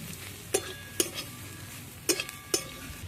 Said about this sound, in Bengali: এগুলো একটু নেড়ে চেড়ে পেঁয়াজের সঙ্গে মিশিয়ে দিচ্ছি